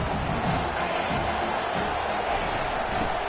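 Dense stadium crowd noise at a Penn State vs USC college football game, a loud, steady roar of cheering filling the whole stretch without breaks.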